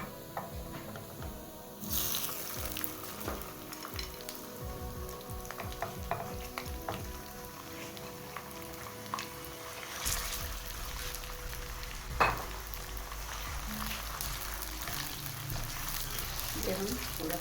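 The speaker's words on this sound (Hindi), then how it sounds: "ये हम थोड़ा सा अंदर फ्राई करेंगे" Chicken karahi ingredients fry in a pan with a continuous soft sizzle, broken by scraping stirs and occasional utensil clinks, fairly close and moderately quiet throughout.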